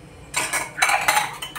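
A metal spoon clinks against a pot while tea leaves are added for a homemade hair-care brew, giving several bright, close scraping and tapping knocks in two short bursts with no talk.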